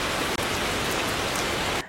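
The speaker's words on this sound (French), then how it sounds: "le son pourrait être aussi bien celui de la pluie que celui de la neige sur un écran" Steady, dense hiss of rain falling on a surface in a scene from the horror film Ring, loud and unbroken, ending abruptly.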